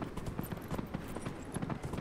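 Horse hooves clip-clop over flat stones in Dragon Age Inquisition, a quick, even run of close, moderately quiet hoofbeats with no talk over them.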